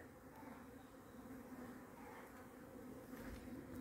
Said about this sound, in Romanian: e mult albină jos la apă